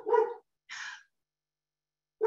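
A dog barks indoors in short, close, sharp bursts separated by silence, three barks in all with no talking.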